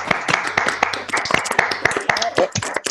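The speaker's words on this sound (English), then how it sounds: "can we please unmute all the attendees so that we can have a round of applause for Professor Ashtekar?" Several online attendees of a physics lecture clap for Professor Ashtekar, a ragged, uneven patter of separate hand claps close to the microphone, with faint voices underneath.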